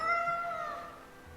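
A cat in the video game Tales of Berseria lets out one drawn-out, falling meow, clear and alone.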